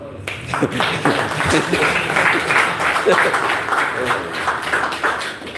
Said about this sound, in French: Très bien, applaudissez pour lui